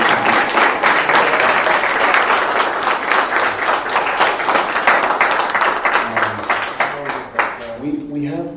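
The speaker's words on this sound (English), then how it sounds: "So maybe we can all clap for Rebecca" An audience at a university MFA creative writing graduation applauds a graduate, sustained dense clapping at full volume for about seven seconds before it thins out and a few voices emerge at the end.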